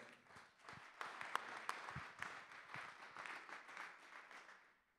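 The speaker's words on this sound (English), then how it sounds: "So please make him feel welcome and give him a big round of applause." Quiet applause from a small audience at a campus redevelopment presentation, scattered individual claps building into a soft patter that tapers off.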